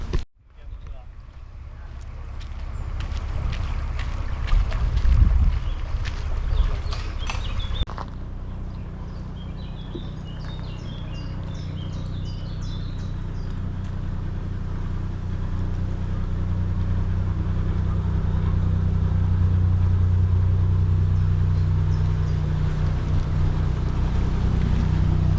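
A narrowboat's diesel engine on the Monmouthshire & Brecon Canal at Brynich Lock chugs as a low, steady rumble that grows gradually louder. Wind noise and brief voices come first, before the engine takes over.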